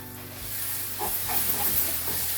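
Ground garlic and ginger fry in oil with a steady, broad hiss and sizzle, constant and fairly loud throughout.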